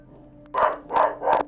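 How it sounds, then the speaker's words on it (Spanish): Several dogs bark indoors in three loud, evenly spaced barks over about a second, close to the listener, with no talk over them. "Solo mis perros están ladrando."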